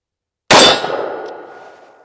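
A single shot from a Taurus 692 revolver firing Federal 125 grain jacketed hollow points: one sharp, loud, close crack after a moment of silence, followed by a fading ring and short echo, with no talking.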